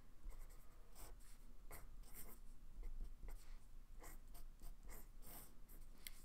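A pen or marker draws a simple parallel circuit diagram on a board, giving a quiet, continuous scratchy writing sound with short strokes and taps under a faint room hum.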